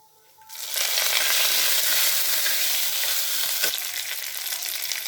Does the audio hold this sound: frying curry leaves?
yes